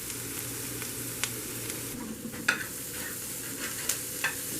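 Onions fry in butter in a pan, a soft steady sizzle with scattered scrapes and clicks of stirring, close and fairly quiet.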